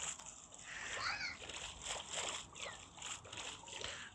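Swimming through water in Minecraft: soft splashes and sloshing strokes repeat in a loose rhythm over a steady watery hiss, fairly quiet.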